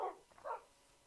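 Dogs barking in the Minecraft video game, two short yelping barks in quick succession, fairly faint and alone with no talk.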